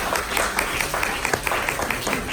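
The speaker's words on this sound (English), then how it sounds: "Let's give a round of applause to our candidates." Audience applause for election candidates at an evening forum, a steady broadband patter of many hands clapping together, moderately loud and continuous with no talk over it.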